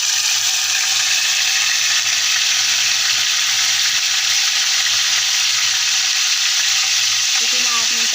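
Mint leaves frying in hot oil give a loud, steady sizzle that runs unbroken and close throughout, with a faint clink near the end.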